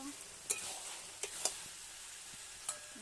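Chicken pieces go into hot oil with methi greens cooking nearby, giving a steady close sizzle broken by a few crisp pops and light clinks of a spatula.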